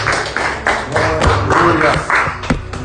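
A Pentecostal church congregation applauds at an evening deliverance service, rhythmic bursts of clapping in a steady beat, loud and close, mixed with voices and a low musical drone.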